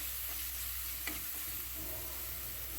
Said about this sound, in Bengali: পেঁয়াজ ভাজছি আর সাথে দিচ্ছি আদা, রসুন, জিরা বাটা, হলুদ গুঁড়া, মরিচ গুঁড়া আর লবণ দিয়ে এটাকে কষিয়ে নিব।